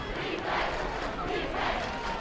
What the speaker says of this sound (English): This Bradley crowd has shown up big time tonight.